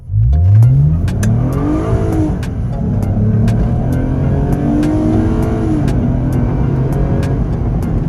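A Lexus IS350 revs hard while its tires slip and spin, the engine climbing and holding a loud, continuous strained drone close to the car for several seconds.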